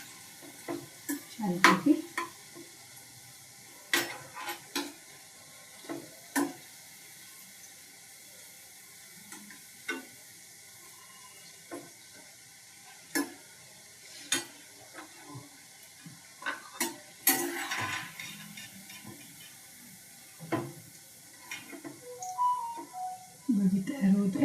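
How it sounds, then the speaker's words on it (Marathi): Corn bhaji fritters deep-fry in hot oil with a quiet bubbling hiss, broken by sharp clinks and scrapes of a utensil at irregular intervals, while a voice speaks briefly. "आता ही भजी तळून होते"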